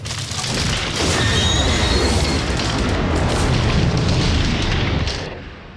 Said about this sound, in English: Sharp metal hits and the sound of railroad cars coupling are added to the ship explosion.